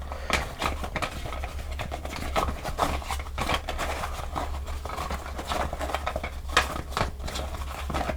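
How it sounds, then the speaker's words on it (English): A deck of game cards being shuffled, a continuous quick patter of riffling and sliding cards, close and fairly soft, with no talk. "Give them a good shuffle."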